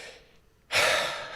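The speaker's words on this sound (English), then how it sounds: "just take a couple of deep breaths, breathing through the heart" A deep meditative breath: a quiet lull, then a loud, airy, close inhale or exhale that swells suddenly and slowly fades, with no talking.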